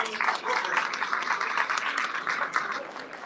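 An audience applauds at a Canadian ethnic press and media council awards celebration to honour the country's first minister of multiculturalism, giving a steady, dense, sustained round of clapping with no pause.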